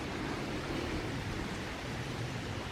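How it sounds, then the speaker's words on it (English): A swollen creek flows steadily after a night of rain, with an even, hissing rush of water on a quiet morning walk. The sound is soft and unbroken throughout, and no one speaks. "I'm just enjoying the creek this morning."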